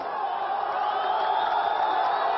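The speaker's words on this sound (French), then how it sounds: "Une foule se rassemble autour de la voiture calcinée et scande des slogans à la gloire de la" A crowd gathered around a burned car chants slogans in praise of Hamas's armed wing, a steady, loud massed roar of voices sustained for the whole moment.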